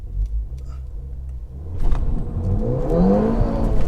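A Stage 1 Ford Fiesta ST in sport mode launches hard with wheel spin, a low rumble swelling into a loud, rising engine note as the car accelerates.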